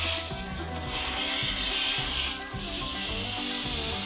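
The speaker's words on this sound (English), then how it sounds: "Get your air nozzle in there, blow out each one of the holes." Compressed air hisses from a nozzle blasting out holes during a repair, a loud, sustained rushing hiss with slight surges in intensity, heard close and without pause.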